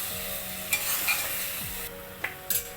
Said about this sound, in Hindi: अब हम इसमें डाल देंगे ये जो हमने शैलो फ्राई किए थे आलू और परवल, और इनको अच्छे तरीके से मिक्स कर लेंगे